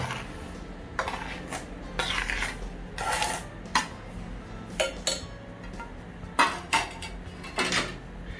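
A utensil scrapes and clinks against a metal pot in irregular bursts as egg whites and sugar are whisked off the heat, close by, with no voices.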